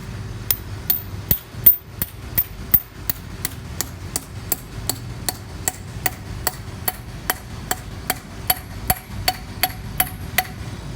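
Steady, rhythmic hammer blows on anchors driven into the ground to install a rubber speed bump ring out one after another, roughly two or three per second, sharp and close, continuing throughout with a low hum underneath.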